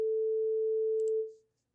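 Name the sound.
440 Hz sine tone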